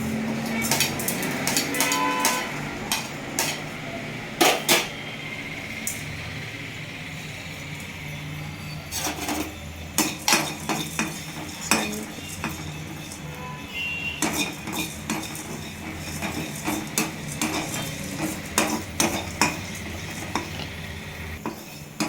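Cumin, peppercorns and curry leaves roasting in a pan on a stove. A soft sizzle runs throughout, and a spoon or spatula scrapes and clinks against the metal in frequent irregular bursts.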